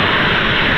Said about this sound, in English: Velocity 515 off to Sydney this morning